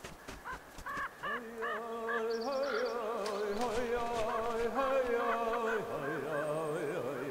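Crows cawing loudly and repeatedly over a wolf-scavenged carcass in the wild, harsh overlapping calls in a steady chorus close by with no talk.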